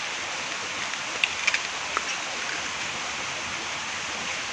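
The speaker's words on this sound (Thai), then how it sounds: "ทุกคนฟังเสียงฝนสิ ฝนตกแรงมากเลยนะคะ" A steady, dense hiss of heavy rain pours down throughout, broken by a few faint clicks and taps.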